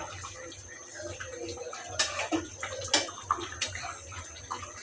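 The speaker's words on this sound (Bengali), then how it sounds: "সামান্য পরিমাণ পানি।" A little water poured into simmering beef curry, faint splashes and trickles with a few sharper clinks from the pot over a quiet low hum, no voices.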